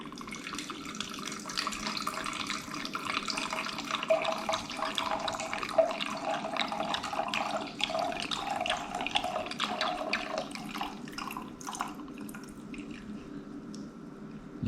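Apothic Red wine blend poured into a glass, a continuous close liquid splashing and trickling that runs for several seconds before tapering off, with faint background noise and no talking.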